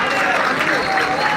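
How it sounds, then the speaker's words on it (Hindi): Crowd applause at an outdoor farmers' rally in Sardarshahar, Rajasthan, welcoming a guest: a dense, steady wash of many hands clapping at once, loud and continuous. "जोरदार तालियों के साथ स्वागत करें।"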